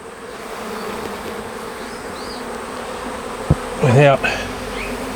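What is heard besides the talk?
honey bees buzzing around a nuc hive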